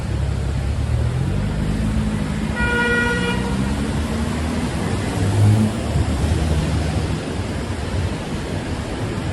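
A BMW passes in New York City street traffic, with a steady roar of nearby traffic and a short car horn toot partway through.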